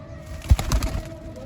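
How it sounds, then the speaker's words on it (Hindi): Pigeon sounds, a few soft low coos with some rustling, heard close up against a steady background hum. "ये कबूतर है"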